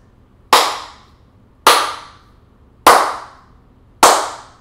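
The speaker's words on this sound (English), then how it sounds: "now I'm going to do the clap test" Four sharp hand claps, spaced about a second apart, ring out in a room fitted with acoustic foam and panels, each snapping loudly and decaying in a short reverberant tail with no talking.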